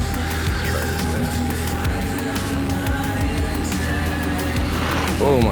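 A Team Associated RC10B4 RC car runs with a continuous electric motor whine and rumble, rising in a quick throttle burst at the end.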